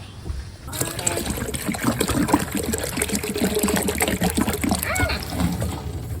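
Fresh warm water gushes and splashes into a container for meat rabbits in winter after a brief quiet start, bubbling and gurgling steadily, with a voice speaking briefly over it.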